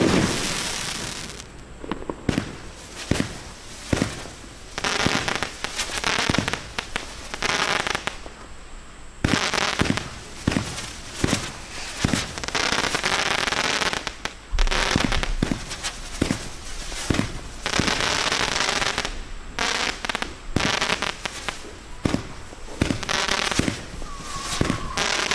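Winda Spiderbot consumer firework erupts in a long run of sharp, loud bangs and dense crackling bursts, with short pauses between volleys, heard alone and close.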